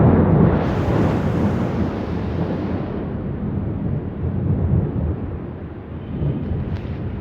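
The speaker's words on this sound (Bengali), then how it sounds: "বৃষ্টির চেয়ে মেঘের গর্জনটাই বেশি।" Deep rolling thunder from a rainstorm rumbles continuously, loudest at the start and swelling again midway, with a broad roaring wash like heavy rain and wind.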